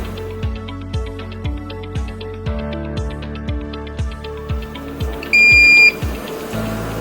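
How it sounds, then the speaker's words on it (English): A single short electronic beep from a 3D printer, loud and steady, signaling it has heated up to unload filament, rising over a rhythmic mechanical whirring and clicking that pulses throughout. "once it beeps, we'll be ready to unload the filament"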